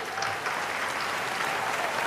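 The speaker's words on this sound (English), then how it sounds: "Huge round of applause for that video." An audience at a cinema discussion session applauds after a video, steady and even clapping from many people filling a short stretch.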